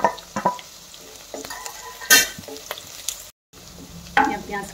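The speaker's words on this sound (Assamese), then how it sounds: "পিঁয়াজখিনি ফ্ৰাই হৈছেগৈ মোৰ।" Onions fry in oil in a pan with green chilies and sliced garlic for an Assamese sweet potato leaf stir-fry. A soft background sizzle is broken by several sharp utensil scrapes and clinks against the pan, heard close up without any talking.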